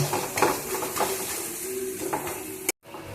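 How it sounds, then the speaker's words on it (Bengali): Potatoes stirred and sautéed in spiced oil in a pan, a soft continuous sizzle under repeated scrapes and clinks of a spoon against metal, close and moderate in level, ending in an abrupt cut. "আলু আমি দিয়ে দিয়েছি এবার আলুটা ভালোভাবে মশলার সাথে কষিয়ে নেব"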